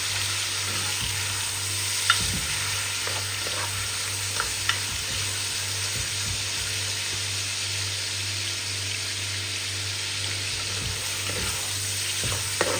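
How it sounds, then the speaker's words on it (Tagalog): Meat for adobo sautés in a pan with a steady, close sizzle throughout and a few faint scrapes and knocks from stirring, with no talking. "unahin na natin itong karne. Ano natin siya, gisa natin siya ng kahit konti, igisa natin."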